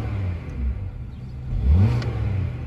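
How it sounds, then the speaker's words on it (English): A Hyundai Sonata Limited engine idles low and then is revved once, its rumble rising and falling smoothly over a couple of seconds, close and loud with no talking. "Let's do a quick rev test."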